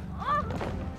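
A single dull thud from someone being beaten in the video game Beholder, heard close and brief, with a short vocal cry just before the impact.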